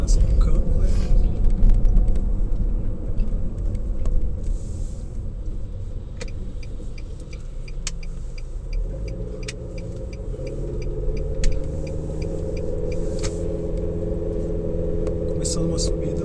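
A Nissan Sentra B16 with a CVT drives through city streets and then begins a long uphill climb. Steady low engine and road rumble fills the cabin, with the engine note droning higher as it starts climbing and soft ticking alongside.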